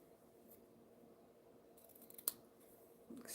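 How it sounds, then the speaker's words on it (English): Scissors snip through craft material during a studio crafting session, a couple of quick crisp cuts near the end over quiet room tone. "let me get my scissors. And we'll trim this."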